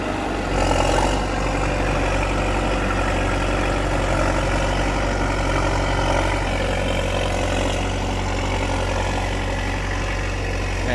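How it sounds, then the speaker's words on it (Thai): A heavy diesel engine of a D50A crawler tractor rumbles steadily and loudly up close in a rubber plantation, idling and chugging without pause for the whole stretch. "เพราะว่าต้องใช้รถไถลากนะครับ"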